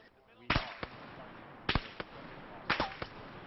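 Three sharp gunshot bursts from a military tactical video game, each a loud crack followed by a short echo tail, spaced about a second apart, over a low ambient bed.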